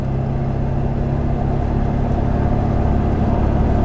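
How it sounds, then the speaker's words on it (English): Heavy, steady in-cab drone of a truck with its exhaust cut off, cruising at freeway speed: a loud, constant low rumble with engine tones and road roar, no talking. "We're about to get up to freeway speeds here, and this is where if you're gonna hear a drone"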